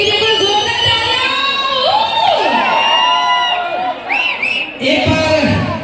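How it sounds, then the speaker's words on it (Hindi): A crowd at a stage show cheers, whoops and shouts loudly and continuously, with whistles cutting through the excited noise. "तो हमारे राइटर के लिए कोई जोरदार तालियां"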